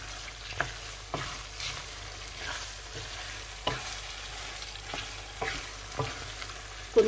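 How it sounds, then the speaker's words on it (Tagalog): Pig blood being stirred into cooked meat in a pan for Filipino dinuguan, a steady low sizzle with soft scraping strokes of the spoon recurring every second or so, close and moderately quiet, no talking. "Continue lang ang halo para hindi mamumuo yung dugo."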